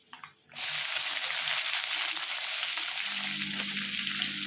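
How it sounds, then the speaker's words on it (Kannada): Mustard seeds and cumin hit hot oil with a sudden loud sizzle that stays steady and close, with faint crackling after a brief quiet start. "ಸಾಸಿವೆ ಜೀರಿಗೆ ಎಲ್ಲ ಹಾಕ್ಕೊಳ್ತಾ ಇದ್ದೀನಿ ಇವಾಗ ಫ್ರೈ ಮಾಡ್ಕೊಳ್ಳೋಣ"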